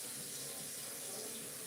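Juicer parts rinsed under a running tap, a steady broadband water hiss from the faucet holding evenly for under two seconds at low level, with no voices.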